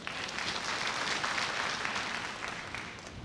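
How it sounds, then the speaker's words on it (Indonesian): Congregation clapping in a church service, steady dense applause sustained throughout at moderate loudness with no voices over it. "Tepuk tangan buat Tuhan."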